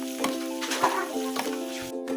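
Garlic, chili and onion fry in cooking oil in a pan for chicken pastil, giving a steady close sizzle with a few stirring scrapes and clinks over a constant tonal hum.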